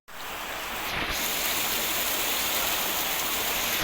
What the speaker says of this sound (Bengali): বৃষ্টি স্টার্ট হলো ভালো হলো অবশেষে বৃষ্টি স্টার্ট হলো